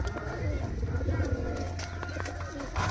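Pigeons in a loft coo with low, rolling calls that repeat steadily and sound close, while voices murmur in the background.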